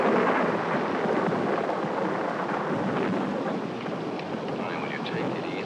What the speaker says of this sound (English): That's only thunder.